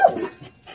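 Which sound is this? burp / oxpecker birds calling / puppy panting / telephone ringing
puppy panting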